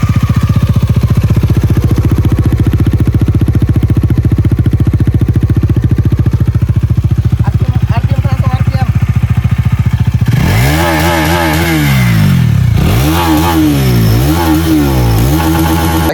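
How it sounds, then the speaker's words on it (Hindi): A Bajaj Dominar 400 motorcycle engine idles loudly up close, then revs hard several times in rising and falling bursts. "बाइकनि साउन्ड खनसे खोनासंना ला एकदम र' साउन्ड"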